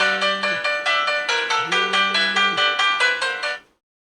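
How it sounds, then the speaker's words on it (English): A Doro 7030 mobile phone plays its newly chosen ringtone, a bright, clear electronic melody of quick repeated notes that lasts about three and a half seconds and then stops abruptly, with nothing else heard. "So now if I hold the phone, you'll hear the new ringtone."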